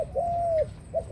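A caged ornamental cooing dove, kept as a pet bird, calls up close: a short note, then a long sustained coo, then two brief follow-up notes, over faint background hum.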